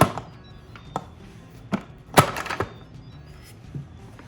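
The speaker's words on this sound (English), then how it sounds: "Okay, then we put the lid on." Several hard knocks and clunks at uneven intervals, with one louder clatter in the middle, as the lid is handled and set onto an Instant Pot close by.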